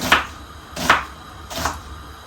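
Three sharp knife chops dicing an onion on a cutting board, evenly spaced, close and crisp, with no voices.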